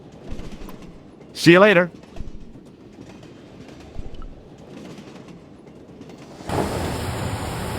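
Train running in the video game Broken Sword, a steady low rumble with faint rhythmic clatter, a brief whistle-like tone near the start and a louder hiss toward the end, with voices talking over it.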